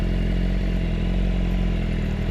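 A BMW S1000RR sport bike converted to GP shift pulls away, its engine holding a loud, steady, close drone with rough low rumble and no break in sound.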